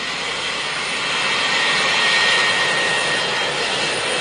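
A jet aircraft flying over Haiti gives a loud, steady roar with a rushing hiss and a faint high whine, swelling slightly midway and holding continuously with no voices.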